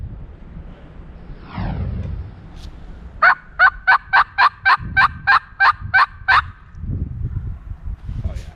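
Wild turkey gobbling and calling outdoors during a hunt, a rapid burst of about a dozen evenly spaced, loud clucking pulses after a brief rising call, with wind rumble and low background noise around it.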